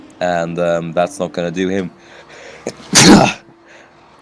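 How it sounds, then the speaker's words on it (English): A sim-racing commentator sneezes once, loud and close into an open microphone, right after a stretch of his own speech with faint game audio underneath. "So now I sneezed on stream"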